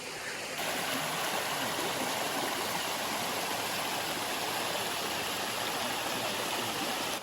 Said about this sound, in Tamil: இப்போ நம்ம அந்த போட் மூலமாக இங்கே வந்து கரெக்டாக அந்த வாட்டர் ஃபால் இடத்துக்கு நம்ம வந்துட்டோம்.